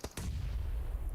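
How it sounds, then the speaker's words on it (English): A grenade explodes in PUBG Mobile during a 2023 PMPL Americas Championship esports match: two sharp blasts in quick succession, then a low, lingering rumble. "Here comes the nade."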